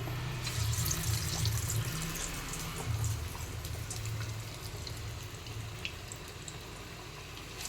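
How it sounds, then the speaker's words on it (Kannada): Chana dal masala vada batter sizzles steadily in hot oil, a continuous close hiss with faint bubbling and no voices. "ಈಗ ಎಣ್ಣೆ ಕಾದಿದೆ ಎಣ್ಣೆ ಒಳಗೆ ಹಾಕ್ತೀನಿ"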